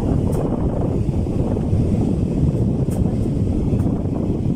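A Synergy 10-inch electric floor fan, recently repaired and oiled, runs at speed setting 2, giving a steady, strong rushing whoosh of moving air close to the microphone.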